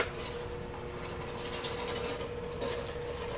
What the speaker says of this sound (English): The mixer is the this thing itself, the handheld item that we're using.